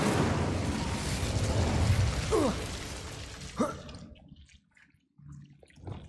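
A fire spell cast in Hogwarts Legacy bursts out as a loud rushing whoosh of flame with a crackling pop, then a second sharp flare before the sound drops away to near silence.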